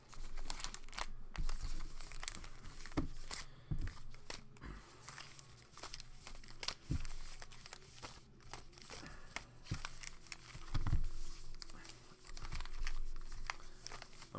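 Cards or small items are shuffled and handled at a table during a blaster battle tournament event, giving a long stretch of crinkly rustling, scraping and tapping with no talk.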